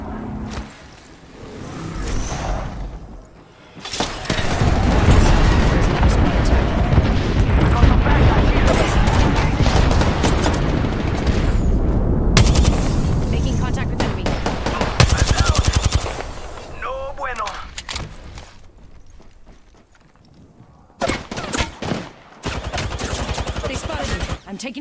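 Gunfire from Apex Legends rattles in long, loud automatic bursts across most of the stretch, dense and close, with brief pauses and a later short volley, while a voice speaks over it.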